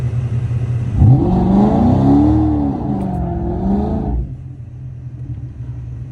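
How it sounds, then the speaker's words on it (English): Camaro SS doing a short burnout, the engine roaring up in pitch with rising and falling revs for about three seconds, loud and close, then dropping back to a low idle rumble. "We on SS Streets, so we get a little 3-second burnout in"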